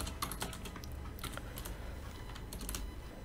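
Fast, irregular keystrokes on a computer keyboard while Python code is typed, clicking steadily for a few seconds against a low background hum with no talking.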